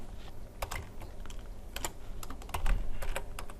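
Keys clatter on a computer keyboard in irregular bursts while a Python project is being set up, close and fairly loud with no talking.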